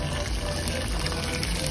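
Water gushes steadily from a tap or is poured into a pot while chicken soup is being cooked, a continuous close splashing flow with no talk.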